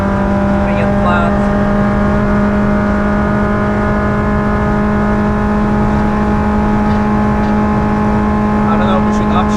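A Peugeot 106 engine holds full throttle down a long straight on the Nürburgring, a loud sustained in-car drone with steady harmonic tones under wind noise, and a voice speaks over it.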